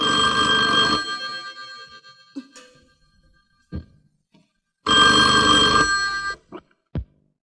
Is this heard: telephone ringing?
yes